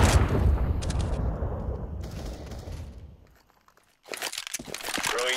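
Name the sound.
flashbang grenade thrown in video game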